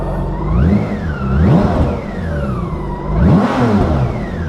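A warmed-up BMW K1600B motorcycle engine revs loudly and close, rising and falling in two strong surges over a steady idle, with no voices.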